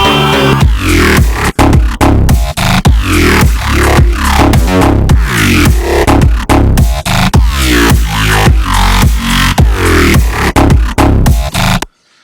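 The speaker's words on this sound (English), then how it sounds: "So that is how you make that cool little growly sound that sounds like this." A synthesized vowel growl bass plays loud and dense, a rhythmic string of buzzing, formant-sweeping notes pulsing steadily before cutting off abruptly at the end.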